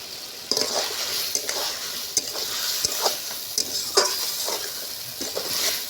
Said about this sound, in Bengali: মশলা হালকা হালকা করে কষতে থাকবো।